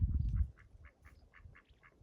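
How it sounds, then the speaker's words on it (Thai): Several ducks beside water in natural Norwegian scenery quack in a steady series of short calls, moderately near, after a brief low rumble at the start. "เป็ดมาเป็นคู่ค่ะ"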